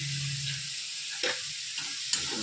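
Soaked kurdai fries in a pan with masala and salt, giving a constant close hiss-and-sizzle with a few brief stirring scrapes and crackles.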